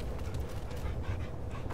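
A dog pants in quick, steady breaths through a short stretch of Remnant 2 gameplay, close and moderately loud against a dense game background.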